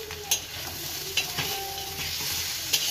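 Thin-sliced potatoes sizzle steadily as they fry in a home kitchen pan, with a few sharp scrapes and knocks of stirring breaking through the continuous frying hiss.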